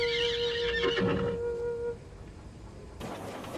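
A horse gives one loud, close neigh in the first half that trails off and is followed by quieter rustling and a short noisy burst.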